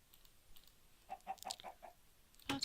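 Chickens in a Minecraft-like video game give a short string of soft, evenly spaced clucks, followed by a sharper sound at the end. No talking.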